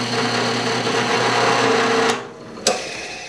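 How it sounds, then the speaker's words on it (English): A power drill bores a hole through wood with a backer board behind it, a loud continuous buzzing whir that stops abruptly, followed by a single sharp knock. "Okay, so we drilled the hole."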